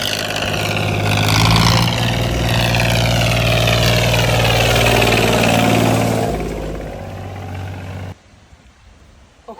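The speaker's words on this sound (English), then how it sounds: "That wee tractor can barely fly." A small tractor engine runs loudly with a steady low throb, revving slightly before cutting out near the end, leaving quiet background.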